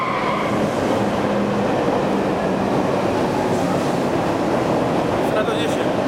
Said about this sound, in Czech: Vlak stojí ve stanici vždycky tak 10 sekund